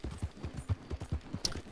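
Hooves clip-clop from a horse ridden in Red Dead Redemption Online. A steady, quick gallop of muffled thuds runs continuously at moderate distance, with no talk over it.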